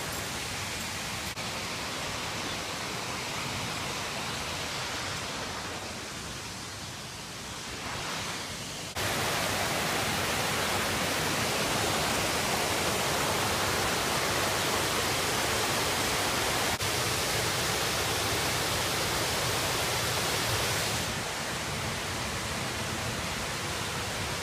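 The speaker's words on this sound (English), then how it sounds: "It's a waterfall." Steady roaring rush of a waterfall beside a road in Michigan's Upper Peninsula, a broad continuous wash of water noise that swells louder partway through and holds with no speech.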